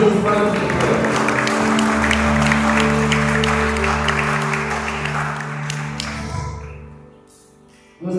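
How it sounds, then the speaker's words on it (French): An audience applauds steadily at a church women's conference, with sustained low keyboard or organ tones underneath. The clapping fades out near the end. "à savoir la Laure Molière, sous vos applaudissements, s'il vous plaît."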